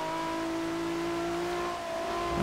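Race car engine in the Forza Horizon 2 video game during a wet race, a steady high-pitched whine with a sustained tone, holding at speed throughout.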